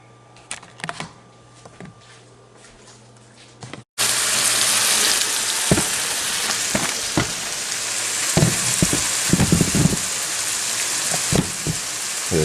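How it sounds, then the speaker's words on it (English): Onion and garlic in hot oil in a pan, a steady bright sizzle that starts abruptly partway through and then holds loud and even, with occasional sharp pops and crackles. "We have our oil heating up with the onion and the garlic"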